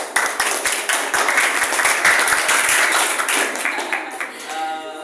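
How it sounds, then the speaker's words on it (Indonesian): A classroom group claps for classmates in group 1 after their presentation on the human respiratory system, dense applause starting at once and holding steady before thinning slightly toward the end. "Silakan kasih aplaus buat temannya kelompok 1."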